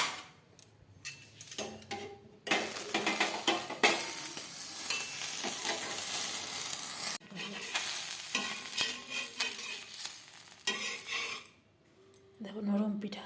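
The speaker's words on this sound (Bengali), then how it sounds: "আমি একটু পাতলা পাতলা করে ভাজছি" Thin chitoi pitha rice cakes fry in a pan, giving a loud hiss of sizzling oil that comes in long bursts between quieter gaps. Utensils clink and scrape against the pan, and a voice speaks briefly now and then.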